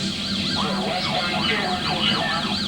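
Police car sirens wailing loud and close during a pursuit, a continuous rising and falling wail with layered tones cycling about twice a second.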